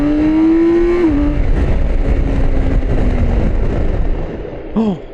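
A BMW K 1600 GT six-cylinder motorcycle on its stock exhaust roars loud and close, its smooth tone rising under acceleration and then steadying amid wind rush before easing off near the end.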